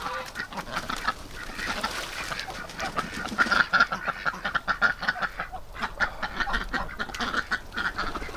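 Several ducks quack loudly and repeatedly up close, with bursts of splashing water throughout.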